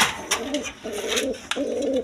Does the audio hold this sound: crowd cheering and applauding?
no